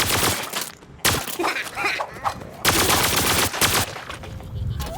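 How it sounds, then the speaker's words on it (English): Rapid zappy electric shots and crackling impacts from an imp character in the game Plants vs. Zombies Garden Warfare 2, loud dense bursts of firing with brief pauses between volleys, no talk. "So the shots are zappy. Impacts are kind of electro with a little bit of guts."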